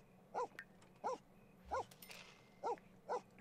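Pet dog barking in The Sims 4, five short, evenly spaced woofs at moderate volume over a quiet game background.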